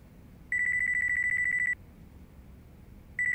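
A mobile phone rings in the video game Yakuza 5, a steady electronic trill lasting over a second, a pause, then the ring starting again, clear and close over quiet background.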